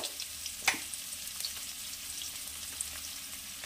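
Vegetables and onion frying in a pan for sambar dal, a faint, steady sizzle with one sharper crackle or stir early on, quiet and without voices.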